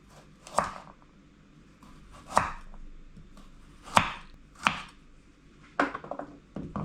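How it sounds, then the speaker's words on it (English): A knife cuts peeled carrots at an angle on a board, giving five crisp chopping thuds at uneven intervals, close and clear against a quiet kitchen. "So I like to cut in an angle like this."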